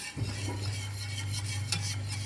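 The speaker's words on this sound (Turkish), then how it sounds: "Ben şu anda arkadaşlar 10 dakikadır falan karıştırıyorum" Pudding stirred in a pot, a steady scraping swirl with a constant hum underneath and faint clinks of the spoon against the pan, continuous and close with no talk.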